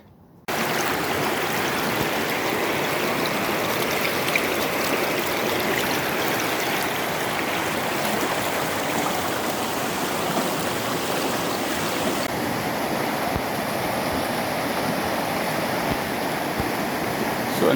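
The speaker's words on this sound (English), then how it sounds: "and I'm off to the river." A mountain river fed by snowmelt rushes and churns steadily and loudly for the whole stretch, a dense continuous roar of moving water with no voices.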